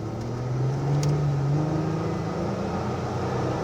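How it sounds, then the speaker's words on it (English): A 1991 GMC Syclone truck launches hard after being brake-boosted, its engine note climbing in a steady, loud rising drone over continuous road and cabin rumble, with no talking. "All right, let's test out the acceleration."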